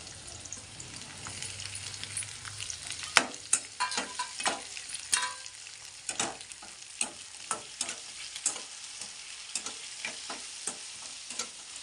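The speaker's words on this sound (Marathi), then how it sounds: "हे मिरच्या पण टाकून घेते आणि टोमॅटो पण टाकून घेते" Green chillies and tomatoes fry with curry leaves in an oiled pan, a soft steady sizzle punctuated by repeated sharp stirring scrapes and taps, close by, with no speech.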